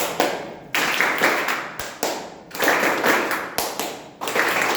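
During a clapping game at a joint Toastmasters club meeting, a group claps in repeated short sets, with crisp, loud bursts of many hands separated by brief pauses in a steady rhythm.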